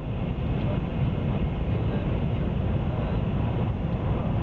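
Taiwan High Speed Rail train speeding through the countryside, a steady, loud broadband rumble and rush that holds without a break, heard from inside the carriage.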